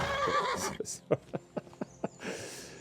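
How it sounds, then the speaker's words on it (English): A horse in Kingdom Come: Deliverance II snorts and whinnies, followed by a run of evenly spaced hoofbeats while riding, fairly close and moderately loud, ending with another breathy neigh. "We're doing some horse riding rehearsal. Some horse riding practice."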